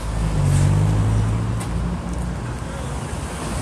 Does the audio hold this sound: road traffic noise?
yes